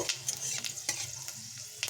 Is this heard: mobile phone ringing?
no